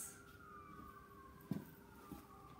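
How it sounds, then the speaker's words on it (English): A faint ambulance siren wails far off, its gliding tone sweeping slowly through a quiet background, with a couple of brief knocks nearby. "Oh, it's an ambulance."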